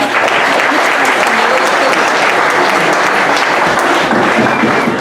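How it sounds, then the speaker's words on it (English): A banquet crowd at a speedway awards night gives a sustained, loud round of applause for a street stock racing division, an even wash of clapping for five seconds. "final round of applause for our Outlaw Street Stock Division."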